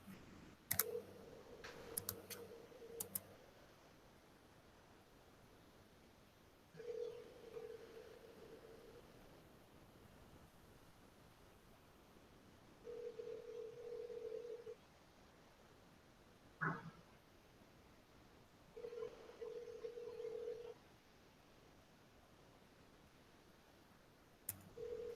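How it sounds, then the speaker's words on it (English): A phone call goes out during an online class: a few quick dialing clicks, then a busy signal repeating as separate evenly spaced tone bursts over a quiet room. "I'm going to make a quick phone call."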